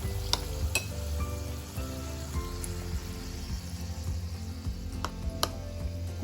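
Spoonfuls of vada pav batter slide into hot frying oil, raising a steady crackling sizzle broken by a few sharp spoon clinks against the pan.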